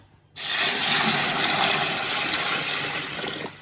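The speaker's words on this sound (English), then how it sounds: "So I proceed by adding water" Steady rushing, splashing water pours into a bucket of fishing bait particles for a few seconds after a brief quiet start, loud and close.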